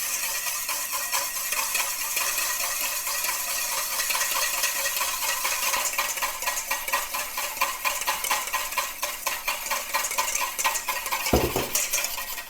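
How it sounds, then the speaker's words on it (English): Vinegar is whisked steadily as olive oil is added in a stream to make salad dressing, a fast continuous metallic ticking of the whisk against the bowl with a single louder knock near the end. "as I'm whisking, I'm just going to slowly add olive oil in like a nice little steady stream"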